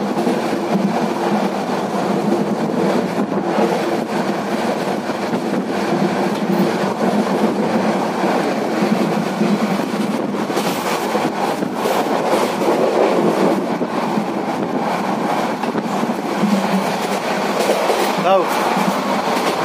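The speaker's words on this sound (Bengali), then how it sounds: "দেখেন ট্রেনের স্টেবিলিটি দেখাই, আমাদের দেশের ট্রেন গর্বের বিষয়" A Korean-made passenger train runs between Dhaka and Cox's Bazar, heard as a steady, loud rolling rumble with repetitive wheel clatter and a brief squeal late on, continuous throughout.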